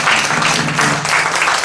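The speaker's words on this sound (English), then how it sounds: "Give yourself a round of applause." Concert audience applauding after a song, a loud, dense burst of clapping heard up close and alone, with no talking over it.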